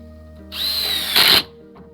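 Power drill driving a 3-inch screw into a wood stud, a single whining run of about a second that revs harder and louder just before stopping.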